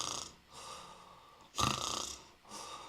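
A voice imitates a mom snoring: three rasping, nasal snore-like breaths, near and fairly loud, with quiet gaps between.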